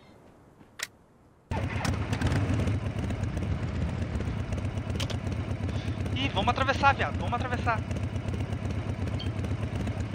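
A motorcycle engine in the battle-royale game Rules of Survival drones steadily after starting up, a constant low rumble running under excited voices of players talking over it.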